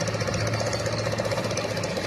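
A steady, loud fishing boat engine chugs with a fast, even throb at a harbour, close by and running continuously with no voices over it.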